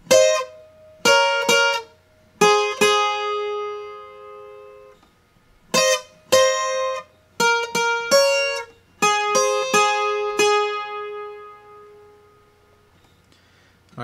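A bright, high-pitched requinto guitar melody of short plucked phrases on the top two strings high up the neck, with brief pauses between them, clear and close, with no voices.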